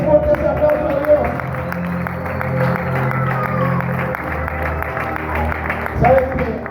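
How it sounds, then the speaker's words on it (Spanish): A church congregation claps together during a Spanish-language sermon, a dense, steady round of applause that holds for several seconds, with a voice and some tonal sound mixed in underneath. "Dale fuerte ese aplauso a Dios"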